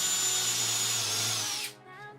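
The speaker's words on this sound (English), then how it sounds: "Now we can go ahead and drill our pilot holes." A power drill bores pilot holes into a thick wood slab for a table build, a steady loud high whine running close for over a second before spinning down abruptly, with no talk.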